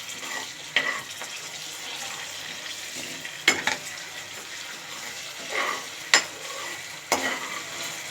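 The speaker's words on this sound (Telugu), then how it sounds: "ఇప్పుడు మిక్స్ చేసుకోవాలి ఫ్రెండ్స్" A spoon stirs and mixes tomato egg curry in a pan, scraping and knocking against the metal a few times at irregular intervals over a soft simmering background.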